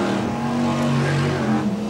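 BriSCA Formula 1 stock cars racing at Kings Lynn, with car number one leading down the home straight; a dense, steady engine roar from several cars holds throughout at close range, with no talk.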